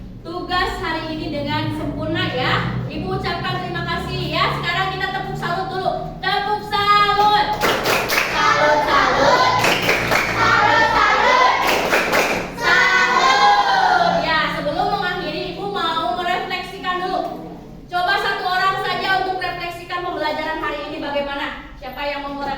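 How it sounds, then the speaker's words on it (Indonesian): Schoolchildren in a classroom perform a rhythmic 'tepuk salut' clap routine, bursts of patterned group clapping mixed with children chanting and a teacher's voice, loud and close with brief pauses between phrases. "Sekarang kita tepuk salut dulu."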